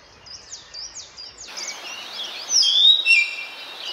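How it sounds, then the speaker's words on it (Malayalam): A hill myna calls in a forest plantation at Valparai, giving a run of clear whistles and sharp chirps. The calls grow louder and more varied toward the end, heard alone against a quiet background. "ഇതാട്ടോ ഹിൽ മൈന."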